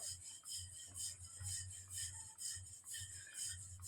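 A rolling pin works puran poli dough in a home kitchen, making a faint, rhythmic rubbing swish that repeats in steady back-and-forth strokes about twice a second.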